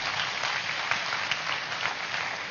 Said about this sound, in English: A big clap to each one of you. To each one of you, it should sound louder.